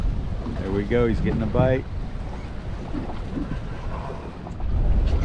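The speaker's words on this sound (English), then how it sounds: "the wind never ever really calmed down today" Strong wind buffets a fishing boat out on the reef off Key Largo, Florida, roaring steadily into the microphone the whole time as someone talks briefly near the start.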